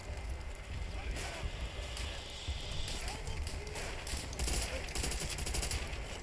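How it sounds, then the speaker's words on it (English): Machine gun fire from a WWII MG in Call of Duty: World at War, dense continuous bursts with rapid repeated cracks, loud and close, running almost the whole stretch with scattered battle noise and possible voices underneath. "I don't want to give up my MG."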